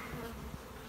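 A brief, close, continuous drone of honeybees hums around a weak hive being condensed into a double nuc, with one faint knock partway through.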